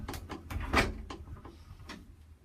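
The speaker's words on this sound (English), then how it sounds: "when you close this white door, you'll see this little lock pin will drop." A white elevator door slides shut with a soft scrape and a muffled clunk, followed by a faint latch tap, quiet and close in a small space.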